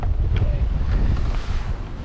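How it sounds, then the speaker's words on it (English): Steady wind buffets a fishing boat on the Lake of the Ozarks in winter, a constant low rumble of gusts against the microphone with no clear breaks, loud and close throughout. "It's a windy one."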